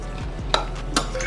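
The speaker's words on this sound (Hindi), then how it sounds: "खूब अच्छे से अब हम इसको मिक्स कर देंगे।" Salad being tossed with homemade mint chutney in a bowl, giving a couple of brief stirring and clinking knocks over a steady low background hum.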